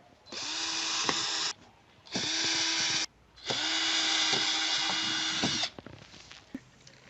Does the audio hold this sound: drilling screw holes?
yes